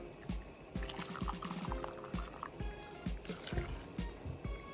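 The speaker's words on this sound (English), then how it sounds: "now we're going to add in 2 cups of hot water" Freshly boiled water from a tea kettle is poured into a bowl of mixed seed cracker batter, a soft steady trickle with faint knocks and bumps underneath, quiet and close.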